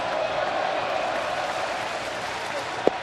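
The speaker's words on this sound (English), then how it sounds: "Now the crowd's woken up." A big baseball crowd keeps up a steady roar of cheers and applause during a regular-season game, a broad and even wash of sound with talk over it and a short knock near the end.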